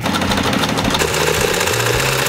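Sewing machine stitching black crochet trim onto the end of a pair of jeans, a steady close mechanical whir with a rapid repeating needle rhythm, loud and continuous with no talk.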